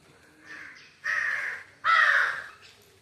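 Crows caw three times, close and loud, each harsh call longer and stronger than the last, with brief quiet gaps between.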